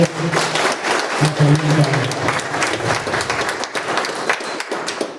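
Members at a transport federation assembly in Cuenca applaud in a thick burst of clapping that holds throughout, with voices calling out beneath it and a few thumps mixed in.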